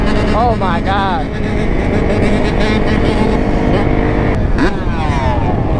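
A Suzuki DRZ dirt bike, slammed, revs loudly and close by in a sustained engine roar with rising and falling pitch sweeps. Wind and outdoor noise sit alongside it.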